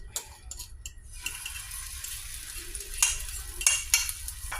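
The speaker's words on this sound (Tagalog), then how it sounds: "Lagyan ng konting olive oil. Tsaka natin dito iluto." A fish omelette (tortang isda) frying in olive oil in a heated pan, a continuous soft sizzle with scattered clinks and scraping utensil taps, close and moderately quiet.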